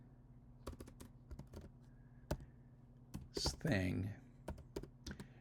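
Keys on a computer keyboard clatter in irregular bursts of sharp clicks, close and fairly quiet, with someone speaking briefly over the typing.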